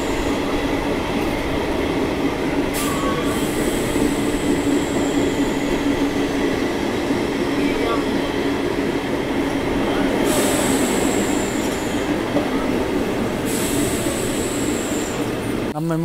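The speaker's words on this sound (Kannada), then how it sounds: "ಲೋಕಲ್ ಟ್ರೈನ್ ಅದು ಬಂದು ಡೆಮು, ಇದು ಮೆಮು." A MEMU local train runs between Tumkur and Bengaluru with a constant loud roar of wheels on rails and faint clickety-clack, plus several brief high wheel squeals, heard from inside the carriage throughout.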